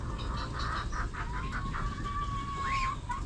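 A newly hatching chick gives thin, high peeps while emerging from its egg, a few short chirps followed by a longer sustained whistle, close and fairly faint.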